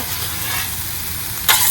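Chorizo street corn with fresh lime juice being stirred on a Blackstone griddle, a steady close sizzle with a louder scraping burst near the end.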